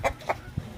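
A free-range hen gives a few short clucks in a backyard breeding flock, two sharp notes close together, then a lower soft one, near and alone.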